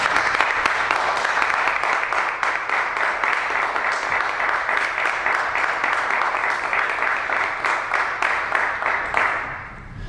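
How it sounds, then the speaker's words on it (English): An audience claps steadily after a poem is read at a poetry reading, a sustained wash of many hands at moderate distance that fades out near the end. "Please, you don't have to applaud after every poem."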